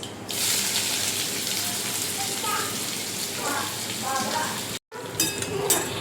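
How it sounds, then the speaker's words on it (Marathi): Chopped onion goes into hot oil with cumin and mustard seeds in a pan, producing a loud, dense sizzle that carries on steadily, with a short break near the end before the frying resumes; a voice can be heard faintly. "त्यानंतर कांदा कट करून ठेवलेला आहे मी, हा कांदा टाकत आहे."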